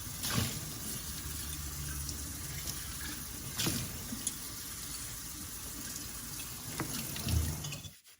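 Tap water runs steadily into a sink while decor canisters are washed, a continuous hiss with a few soft clunks of the canisters against the basin, fairly close and with no talk.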